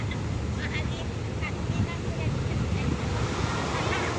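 Strong wind at Dolomite Beach buffets the microphone with a low, rumbling roar over steady surf, constant and close throughout.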